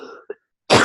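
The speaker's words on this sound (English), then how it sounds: "I'm having some coughing attacks" A single short cough or throat clear, close and fairly loud, followed by a sharp burst of noise, with no talking.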